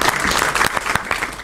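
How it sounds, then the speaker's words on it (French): Audience applause at a book presentation and signing ceremony, brisk close clapping from a modest crowd with individual hand claps standing out in an uneven rhythm. "Je demanderai qu'on applaudisse Maïmouna."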